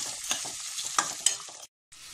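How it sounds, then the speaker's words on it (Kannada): Pepper and cumin frying in a pan while being stirred for ridge gourd chutney, with soft sizzling and a few sharp spoon scrapes and taps, then a brief silence. "ಇವಾಗ ಎಲ್ಲ ಸೇರಿ ಒಂದ್ಸತಿ ಮಿಕ್ಸ್ ಮಾಡ್ಕೊಳ್ಳೋಣ."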